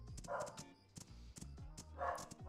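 Game dog barks in short repeated bursts, loud and close, over music and other game sounds, with a few sharp yips in between.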